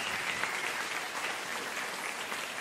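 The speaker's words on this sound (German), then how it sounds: "Sie klatschen, obwohl Sie haben gemerkt, ein sehr trauriges Ende" Audience applause after a cabaret comedy performance fills the room as steady, dense clapping throughout, with no voices on top.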